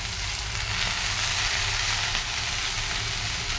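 Water spinach (kalmi greens) fries in a wok, giving a loud, dense, continuous sizzle close up with no voices.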